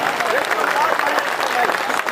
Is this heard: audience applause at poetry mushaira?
yes